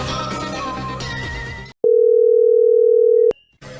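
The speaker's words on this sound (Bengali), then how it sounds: "আমি তাহলে সিআইডি কে ফোন দিই।" A telephone tone sounds while a call is placed to the CID in a Bengali crime drama. One loud, steady electronic tone lasts about a second and a half on its own, following a stretch of background sound.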